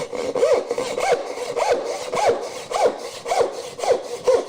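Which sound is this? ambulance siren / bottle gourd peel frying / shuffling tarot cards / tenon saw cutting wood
tenon saw cutting wood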